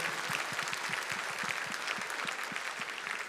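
Audience applause at a concert evening of Crimean Tatar songs fills the hall, a steady, even wash of many hands clapping, fairly soft and distant.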